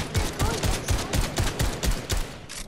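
A Brute's minigun fires in a video game with a fast, even stream of heavy thuds at a constant pace, loud and close, while excited voices talk over it.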